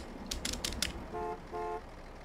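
A car horn gives two short, steady toots, each roughly a quarter second, following a brief burst of clattering noise at the start.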